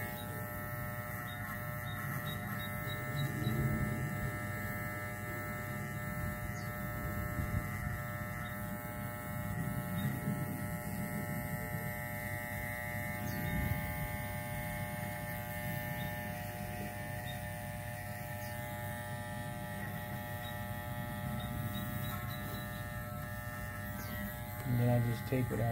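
A budget Walmart electric clipper hums steadily throughout a taper fade haircut, a constant close buzz that runs under ongoing talk, with a few brief bumps and handling noises.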